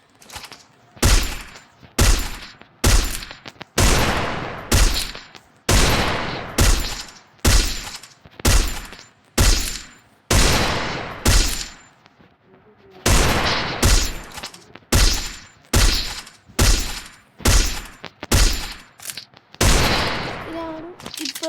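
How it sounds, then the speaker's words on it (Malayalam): Bursts of rapid automatic gunfire from a video game repeat in a steady rhythm, loud and close, each volley lasting about a second with short gaps as headshots are fired, and a voice talks over some of them. "ഇതാണ് ഇപ്പം ഞാൻ ഹെഡ്ഷോട്ട് അടിക്കുന്നത്."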